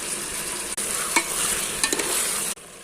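Liver frying in oil with onion, tomato and green chillies at a street food stall, a steady loud sizzle with a few stirring scrapes, cut off briefly by a short gap near the end.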